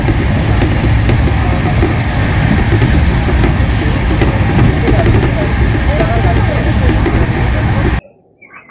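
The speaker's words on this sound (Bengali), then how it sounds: "আমাদের ট্রেন এখন বর্ধমান জংশনে ঢুকে গেছে।" The Darjeeling Mail, train 12343, rolls into Barddhaman junction at night with a steady, loud rumble and rattle of coaches and faint background chatter, then cuts off abruptly near the end.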